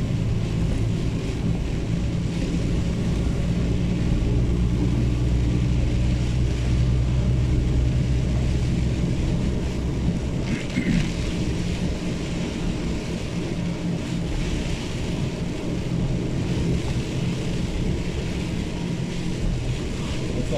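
Steady rushing hiss of truck tires spraying through standing water on a wet road, heard through slightly opened windows, a continuous wash with a low rumble underneath.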